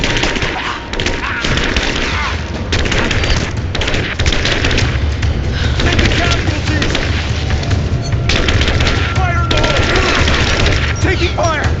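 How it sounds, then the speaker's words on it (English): Gunfire and explosions from the Rise of the Tomb Raider video game, a loud, dense barrage of shots, bursts and booms with shouted voices mixed in throughout. "Give me covering fire! I'm under fire!"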